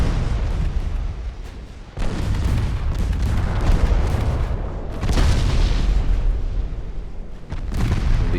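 A warship fires torpedoes in the naval battle game Ultimate Admiral Dreadnoughts, heavy continuous booming and rumbling combat noise with sharp new bursts at about two, five and near the end, loud and without talk.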